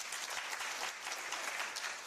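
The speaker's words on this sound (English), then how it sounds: "Please a clap for them." Audience in a conference room claps for visiting county delegations at a budget transparency launch in Kenya, a dense, steady burst of many hands throughout, with no voices over it.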